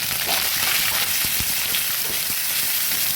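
Onion paste sizzles and fries steadily in a pan for a jackfruit curry, a dense continuous crackle with scattered pops, loud and close with no talking.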